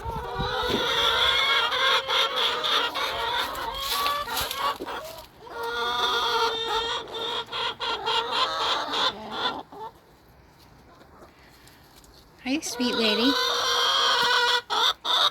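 Several chickens squawk and cluck loudly and continuously nearby, with a short quieter gap before the noisy squawking resumes; a person briefly speaks over them.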